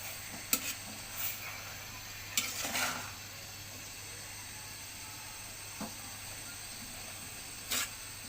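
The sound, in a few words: stirring red amaranth greens in a pan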